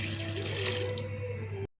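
Water pours steadily into a cooking pot for boiling rice, a continuous close splashing flow that runs for most of the moment before cutting off abruptly near the end.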